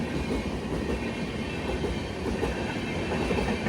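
A passenger train on the Konkan route runs along the rails with a loud, steady rumble and rattling wheel noise and no voices.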